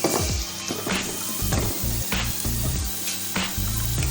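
Rice kadhi mixture lightly frying with spices in a pan, a steady close sizzle broken by repeated stirring scrapes and taps at a regular pace, with no voices.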